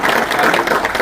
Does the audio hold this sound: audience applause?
yes